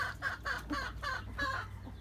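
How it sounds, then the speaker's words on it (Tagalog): Chickens on a backyard farm cluck in a quick, regular series of close, moderately loud clucks over a low steady hum, with no talking. "meron pang maraming manok sa ilalim kasi kinakain nila yung mga tira-tirang pagkain"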